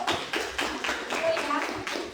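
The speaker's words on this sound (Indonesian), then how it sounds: "Tepuk tangan dulu." Scattered clapping from students in a classroom, a few uneven bursts of hands with a voice speaking over and between the claps.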